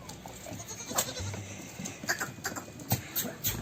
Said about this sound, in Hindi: ये सिरोही जात की बकरी है।